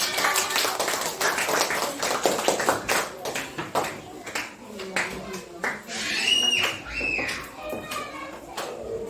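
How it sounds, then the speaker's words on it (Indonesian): A room full of people, likely a teachers' group in a coaching session, breaks into applause for the first presenting group: a dense stretch of hand clapping with scattered talk and children's voices mixed in, tapering off near the end. "kita berikan aplaus untuk kelompok 1"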